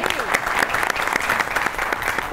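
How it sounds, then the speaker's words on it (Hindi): A studio audience on a Pakistani comedy talk show bursts into brisk, dense clapping that runs unbroken for a couple of seconds, with faint voices mixed beneath it. "तालियां।"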